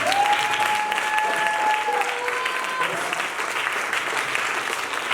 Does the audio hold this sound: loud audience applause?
yes